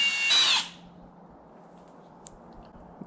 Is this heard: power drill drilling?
yes